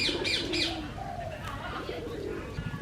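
Pigeons being fed seeds at an outdoor spot in Koh Samui, Thailand, give soft, close cooing calls mixed with light chirps and scattered pecking, while people talk quietly nearby.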